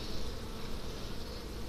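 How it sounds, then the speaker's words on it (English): Bees swarm around an open beehive during a hot summer hive inspection, filling the air with a dense, steady buzz that stays close and even throughout. "Look at those bees."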